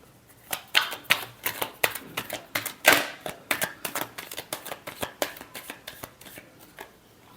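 A deck of tarot cards being shuffled by hand, producing a quick run of crisp riffling slaps and flutters in an even rhythm, close and fairly quiet, with no talking.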